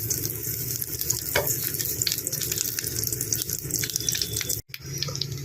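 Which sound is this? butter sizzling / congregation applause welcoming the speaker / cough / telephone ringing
butter sizzling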